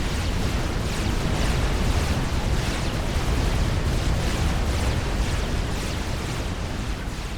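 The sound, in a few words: plasma cannons firing in Forged Alliance Forever video game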